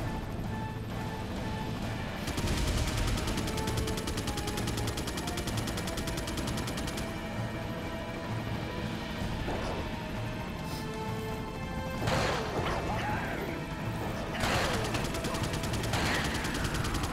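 Gunfire rings out in the Resident Evil 4 HD Edition video game, a steady run of loud shots with sharper bursts near the end, set against a constant game soundtrack.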